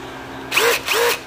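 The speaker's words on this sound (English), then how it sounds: "you drill down into what's left of the sensor" A power drill boring out the broken remains of a rear ABS sensor on a 2007 Hyundai Santa Fe, two short loud whirring bursts that rise in pitch as the motor spins up, separated by a brief pause.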